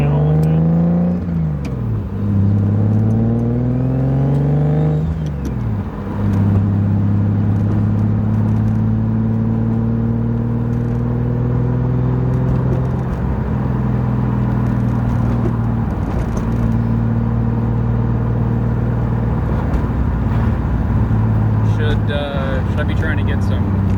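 A BMW E36 with a turbocharged M52 inline-six runs loud and close, its revs sweeping up and down in repeated blips before settling to a steady, rumbling idle, with people talking over it.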